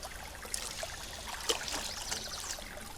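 Fish fillets rinsed under running tap water in a kitchen, giving a short, steady trickling hiss close by with no voices.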